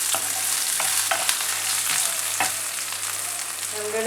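Red chillies and other ingredients for carrot chutney sauté steadily in a hot pan, a continuous close sizzle with occasional light stirring clicks from a spoon throughout.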